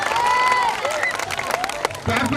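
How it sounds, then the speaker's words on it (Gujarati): Applause from the crowd at a primary school's 26 January Republic Day function, with scattered hand claps mixed with voices and whistle-like tones, building to a denser burst of clapping near the end. "તાળીના ગડગડાટથી વધારી લઈશું."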